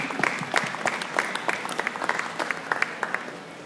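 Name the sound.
audience applause at cattle show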